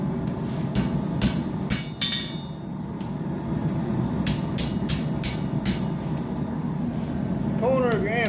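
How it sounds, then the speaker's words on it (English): Blacksmith's hammer striking hot steel on an anvil to flatten it, forging a split cross and horseshoe piece: a few sharp ringing blows in bursts, then a steady run of evenly spaced strikes over a constant low background hum. "we're just going to hammer everything down flat and smooth."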